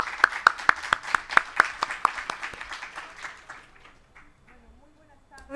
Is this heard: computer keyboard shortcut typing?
no